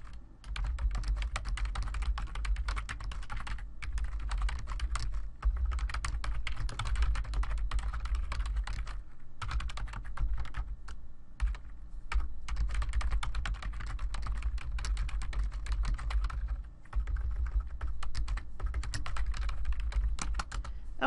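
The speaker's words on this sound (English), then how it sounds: "you can move forward to typing the assignment for your class" Continuous typing on a computer keyboard while entering a class assignment into a Google Docs word processor, a dense, steady patter of close key clicks with brief pauses and no talk.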